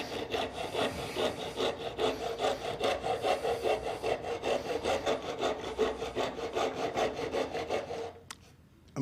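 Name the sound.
half-round rasp carving wood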